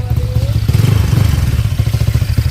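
Honda Click scooter with a 199cc BRT 63mm block and Ataka 26/31 head, idling close by with a steady, loud, rapid pulsing throb and a little mechanical clatter.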